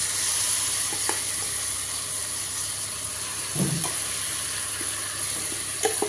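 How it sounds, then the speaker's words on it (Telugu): Red chilli pickle tipped into a hot, sizzling tempering and stirred, a steady frying hiss throughout with a few soft scraping stirs and a brief louder burst midway. "ఇప్పుడు తాలింపులోకి మనం పండుమిర్చి పచ్చడి వేసేసుకుందాం."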